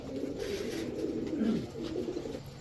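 Low, rolling coos come from pet pigeons, including a jet-black breeding pair, close by and continuous, swelling and sliding downward near the middle before settling again.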